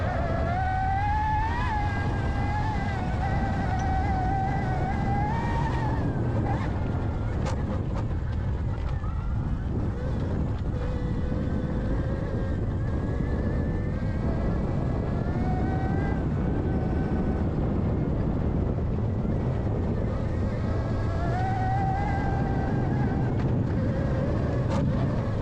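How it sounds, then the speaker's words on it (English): A stock Sur-ron electric dirt bike struggling in deep desert sand, its motor whining with a rising and falling pitch under heavy, continuous wind rumble, fairly close throughout. "The stock Sur-ron struggling in the sand."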